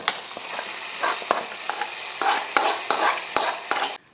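Tempering is added to a mantha fish curry and stirred in, with a series of spoon scrapes and clinks against the pot over a bright sizzle that swells in bursts before stopping abruptly.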